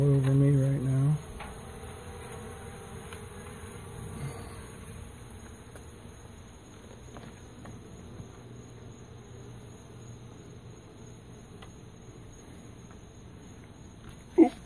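A honey bee swarm hums as it is transferred into a new hive, a faint, continuous buzzing close by, with a few soft knocks and brief louder bumps.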